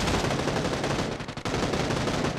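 Gunfire in PUBG, a dense continuous rattle of rapid automatic shots with a brief dip midway, loud and close, filling the whole stretch without talk.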